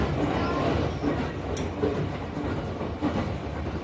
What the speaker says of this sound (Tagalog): Parang MRT ito sinasakyan namin.